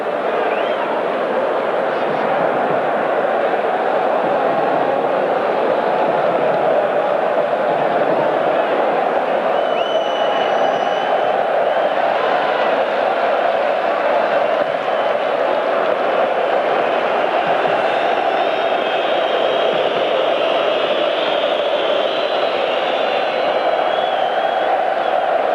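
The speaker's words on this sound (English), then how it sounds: "Capacity crowd here at the Parken Stadium in Copenhagen" Capacity crowd at the Parken Stadium in Copenhagen during the 1997 Denmark v Croatia football match, a steady broad roar of thousands of spectators that stays loud and continuous throughout with occasional swells of cheering.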